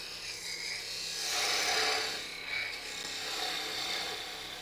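Sandpaper rasps against spinning wood on a lathe during woodturning, a soft, steady scratchy hiss that swells and fades in gentle waves, heard alone.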